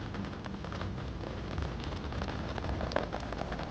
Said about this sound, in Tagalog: So, manag-ulan man.